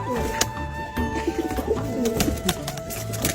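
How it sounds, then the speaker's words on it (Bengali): Pigeons cooing softly inside a rural pigeon house with newly hatched chicks, low throaty coos repeating under other faint bird calls and steady background noise. "এটা হচ্ছে আমার কবুতরের ঘরের বাচ্চা নতুন হয়েছে"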